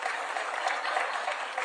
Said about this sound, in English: A clap for Mariam, please